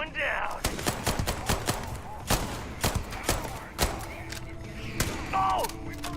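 Gunfire in the sci-fi video game Starfield: a rapid series of sharp, loud shots in irregular bursts, with a speaking voice and game sounds mixed in between.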